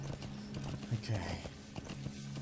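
Horse hooves clip-clopping in the Metal Gear Solid V video game, a steady rhythmic trot at moderate distance under a constant low background hum, with a brief whinny-like burst midway and someone talking over it.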